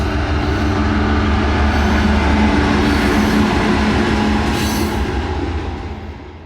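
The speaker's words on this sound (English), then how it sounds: "Uh-oh, we hear the train coming." A train rolls past along a roadside rail line, a loud, steady rumble of wheels and cars that fills the whole stretch and eases off slightly at the end, with no voices.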